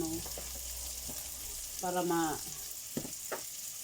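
Garlic frying in a pan for fried rice, a steady close sizzle running throughout, with brief voiced fragments and a few stirring knocks cutting in over it.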